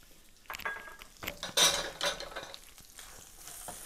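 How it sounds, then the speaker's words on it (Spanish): Large onion pieces dropped into a pan for chow mein and stirred with a metal utensil, producing a handful of clanks and clinks over a faint frying sizzle, close and fairly quiet. "ahí voy a ir agregando lo que viene siendo la cebolla"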